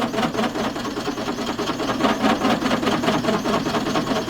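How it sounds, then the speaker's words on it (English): Hacksaw working back and forth through the weld on a Lamborghini Anza exhaust flange, a steady, close, continuous rasping with rhythmic strokes and no talk. "I think I'm going to hacksaw it the rest of the way."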